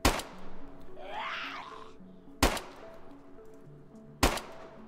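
Three sharp, loud gunshots ring out in DayZ, spaced a couple of seconds apart, each a crisp crack that decays quickly over a faint game background, with a brief murmur of other sound between the first two.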